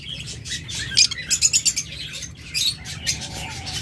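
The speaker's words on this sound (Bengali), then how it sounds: "এখানে একদম হাই মিউটেশনের এক জোড়া লাভবার্ড রয়েছে" A pair of high-mutation lovebirds gives quick, shrill chirps up close, a short burst of rapid tweets followed by a few scattered calls, with no one talking.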